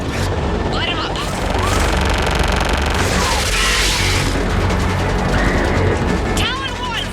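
Airstrike in Mass Effect 3 Legendary Edition: heavy booming explosions and mechanical rumble roll under radio chatter from voices in the fight, with whining weapon sweeps and a dense, loud battle roar throughout.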